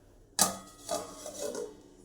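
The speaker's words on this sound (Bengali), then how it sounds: "থালা দিয়ে ঢেকে দেবো কড়াইটাকে" A sharp clatter of a metal plate set down over a wok, followed by a few softer scraping knocks as it settles.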